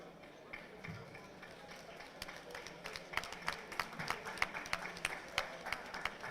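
Audience hands clapping at a Kuka Prize for Young Innovators recognition during a bishop's 70th celebration, starting sparse and building into denser, louder applause over a crowd murmur.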